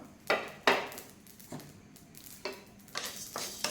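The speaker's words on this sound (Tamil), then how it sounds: "எல்லாத்தையுமே நல்லா வறுத்துக்கணும்." Dry scraping and tapping of a spoon stirring spices and cashews dry-roasting in a hot pan, irregular strokes with faint sizzling in between.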